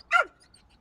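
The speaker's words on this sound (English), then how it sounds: "It's a dog." A single short dog bark, clear and fairly close, with silence after it.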